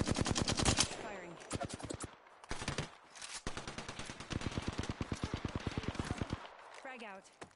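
Gunfire in the Apex Legends battle royale, with rapid automatic bursts of loud, close shots in long rhythmic strings, broken by short pauses and ending with a reload-like clatter.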